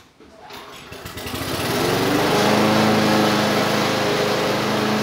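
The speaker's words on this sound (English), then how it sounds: "He's working on the lawnmower" A lawn mower engine sputters to life and rises into a steady, high-pitched drone that holds loud and constant nearby.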